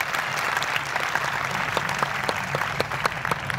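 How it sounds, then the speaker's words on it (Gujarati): A school annual-function audience claps together as a test, producing a dense, continuous burst of applause that holds steady for a few seconds with no voices on top. "ચાલો આપણે ટેસ્ટ કરી લઈએ તાળીઓ પાડીને"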